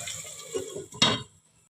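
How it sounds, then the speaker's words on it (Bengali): A lid comes off a pot of Bengali shol fish curry with a single bright metallic clink after a few soft handling knocks, close and brief, then quiet. "ঢাকাটা খুলে দিলাম।"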